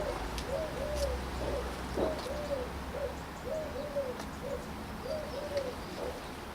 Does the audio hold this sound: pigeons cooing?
yes